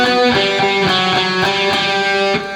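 Distorted electric guitar rips through a fast double-picked phrase, loud and steady, with each note picked twice in a tight, driving rhythm and no talking over it.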